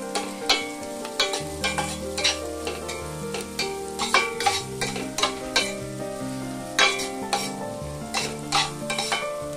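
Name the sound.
onion pieces frying with salt and turmeric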